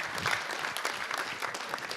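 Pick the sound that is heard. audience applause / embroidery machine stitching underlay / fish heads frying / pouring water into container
audience applause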